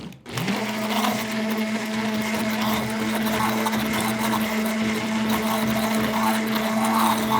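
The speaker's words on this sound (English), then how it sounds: "When you're soap making, you do need an immersion blender as well." An immersion blender whirs steadily and continuously as it mixes clay into oils for tallow soap, a loud close motor hum with no talk.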